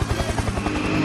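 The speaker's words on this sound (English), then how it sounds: "Helicopter, helicopter." A helicopter flies over a busy market in Udaipur, its rotor thudding in a quick, regular pulse that sounds loud and close for about a second.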